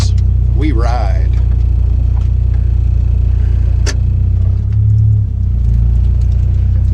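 A car engine idles steadily with a low, constant rumble, with a brief higher whine near the start and a few soft clicks, running on a winter day.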